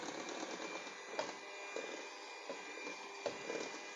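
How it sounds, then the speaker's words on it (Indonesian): Electric mixer running slowly through green noodle dough, a steady mid-level whir with a few soft bumps and knocks from the dough, no talking. "Kita mixer pelan saja."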